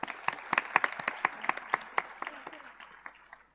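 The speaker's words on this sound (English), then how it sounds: "Please give sir a huge round of applause." Audience applause at a national symposium: sparse, distinct claps from a modest crowd ring out in an uneven rhythm, close and crisp, thinning out toward the end.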